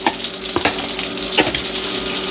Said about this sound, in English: So this is where I'm gonna add my garlic.